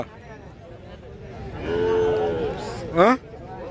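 A cow lets out a drawn-out low moo, followed by a shorter, rougher call, amid a faint background hubbub at the Saturday cattle market in Pebbair.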